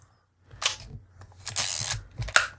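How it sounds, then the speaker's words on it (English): Zorki 4K 35mm rangefinder film camera having its shutter cocked, a few close mechanical clicks and a longer ratcheting wind, quiet and alone. "cock the shutter"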